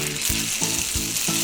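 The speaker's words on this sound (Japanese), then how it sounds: "で焼きそばを焼くときは蒸し麺を先に焼く。" Steamed yakisoba noodles frying in hot lard in a pan, a loud continuous sizzle with rhythmic scraping or stirring strokes repeating about every third of a second, no voices.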